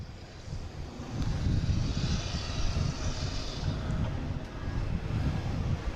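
A JetBlue airliner takes off at Boston Logan International Airport, its engines a broad distant roar that swells after the first second and holds steady, with some wind noise at the microphone.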